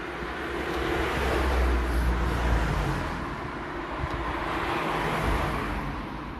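Steady, loud road noise from cars passing on a road in Switzerland, a continuous broad rush that swells and eases as vehicles go by, with no voices.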